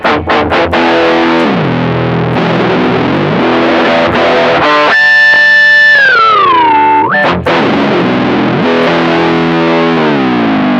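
A distorted electric guitar holds a note while a Mooer Pitch Step pedal bends its pitch smoothly downward, then snaps back up, amid sustained heavy chords.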